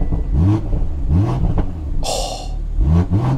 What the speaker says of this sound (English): It sounds really deep, little bit of a crackle, still a very nice 6-cylinder sound there